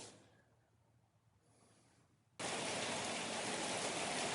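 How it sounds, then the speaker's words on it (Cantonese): Heavy rain bursts on abruptly partway through, a loud, steady, even hiss that drowns out the quiet room tone before it, recorded from inside a flat at a Hong Kong housing estate. "都落埋雨啦"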